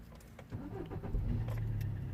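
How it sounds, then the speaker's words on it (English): A car engine cranks and catches, a low rumbling churn rising in level partway through and settling into a steady idle hum, close by with faint jingling. "So when I crank the engine,"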